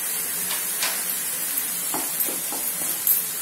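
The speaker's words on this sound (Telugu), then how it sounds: "ఈ పేస్ట్ ని 1 నిమిషం ఫ్రై చేసిన తర్వాత కట్ చేసి పెట్టుకున్న వెల్లుల్లి రెబ్బలు," Onion paste and garlic cloves fry in a pan in a Telugu home kitchen while cooking chole palak, giving a soft, steady sizzle with a few light stirring scrapes and clinks.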